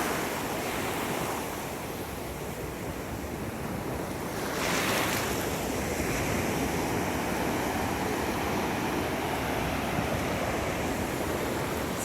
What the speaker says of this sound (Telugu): ఎంత ఇదిగా కాళ్ళ దగ్గరికి వస్తున్నాయి ఈ అలలు